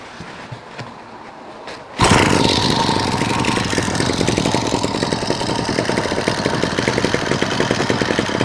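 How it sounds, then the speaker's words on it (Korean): Brush cutter engine fires up after about two seconds of quiet, then settles into a loud, buzzing, steady two-stroke idle up close. "제가 한번 예초기 시동을 한번 걸어 보도록 하겠습니다"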